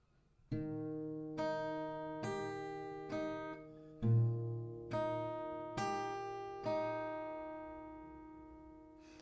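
Acoustic guitar notes are played slowly one at a time, each ringing out and overlapping with the last, forming a gentle broken-chord pattern with no talking.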